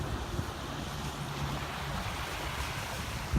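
Ocean surf breaks and rolls at the mouth of the Cape Fear River near Oak Island and the start of Frying Pan Shoals, a continuous wash of waves mixed with wind buffeting the microphone, no talk.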